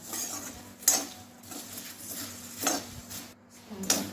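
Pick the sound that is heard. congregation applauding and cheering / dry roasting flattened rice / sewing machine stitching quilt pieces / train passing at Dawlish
dry roasting flattened rice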